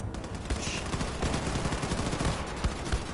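Continuous dense gunfire in the video game Wolfenstein II: The New Colossus, a loud sustained barrage of overlapping shots and explosions with no pause, close and filling the whole stretch.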